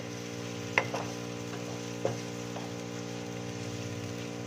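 Onions go into achari chicken frying in a pan, with a steady close sizzle and a couple of sharp clicks and small bursts near the start.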